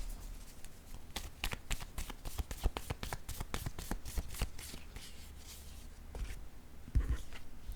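Playing cards drawn from a deck, giving a quiet run of quick, crisp flicks and taps close by, with a few louder slaps and a brief rustle near the end.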